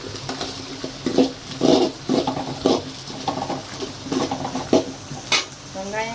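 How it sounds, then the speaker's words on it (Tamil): Onions and green chillies sautéing in a pan for a goat curry dish, a soft steady sizzle under repeated scraping stirs of a spoon against the pan, close and moderately loud, with no talking. "வெங்காயம், பச்சை மிளகாய் எல்லாம் நல்லா வதங்கணும்"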